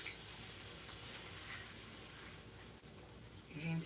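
Water from a kitchen tap runs in a faint, steady hiss as a knife is rinsed under it, quiet and continuous with small splashes.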